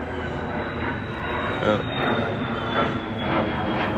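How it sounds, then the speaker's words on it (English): An airplane drones overhead, a steady broad engine roar that swells slightly mid-pass and holds through, with people talking faintly underneath. "Sometimes we get historic planes that fly overhead, but not that often."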